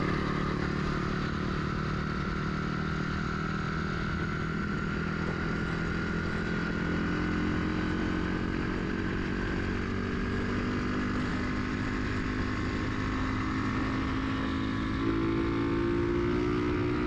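A motorcycle fitted with a digital GPS meter is ridden along a road, its engine a steady droning hum with rising and falling pitch, wind and road noise constant throughout, with no one speaking.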